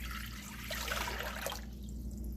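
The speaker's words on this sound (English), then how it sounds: "in goes 4 cups of water" Four cups of water pour into a pot for cornmeal mush, a close steady splashing rush that softens and thins out in the last second.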